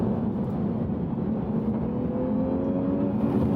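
Synthetic engine sound piped into the cabin of a Lexus RC 200t while driving, a steady droning hum that rises gently in pitch as the car accelerates, heard from inside over road noise.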